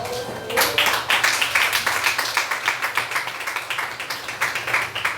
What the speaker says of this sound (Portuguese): Dê uma linda salva de palmas a ele.